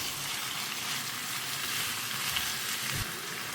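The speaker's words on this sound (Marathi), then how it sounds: "हाय फ्लेमीन न्ही आमकां हें बरें मिक्स करून घेवंक जाय" Garlic chicken fries on a high flame, a loud, steady, close sizzle with occasional scrapes and stirs in the pan and no talking.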